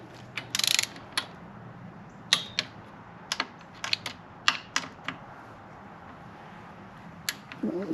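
A torque wrench tightens the fork bolts on a Kawasaki Ninja motorcycle, giving sharp ratcheting clicks in short irregular bursts over a quiet hum, close by.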